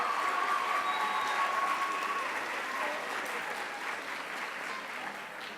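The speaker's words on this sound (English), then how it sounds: "Give him a round of applause." Warm audience applause at a school band spring concert, full clapping at the start that gradually thins and fades, with a few faint voices underneath.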